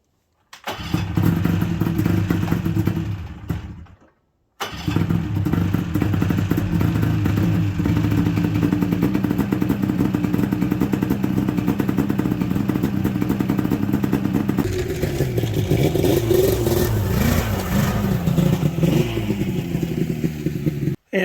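A snowmobile without its skis fires up with a brief cranking burst, then settles into a loud, steady, rough-running engine drone that shifts pitch as it revs near the end.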